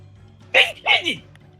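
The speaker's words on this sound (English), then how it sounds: "That was a sneeze?" A short, sharp sneeze-like burst followed by a second quick burst, close and brief against a quiet background.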